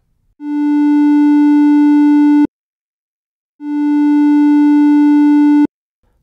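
Two sustained tones from an Arturia Modular V synthesizer, each swelling in gradually under its envelope, holding steady, then stopping dead with an abrupt cutoff, separated by a short silence.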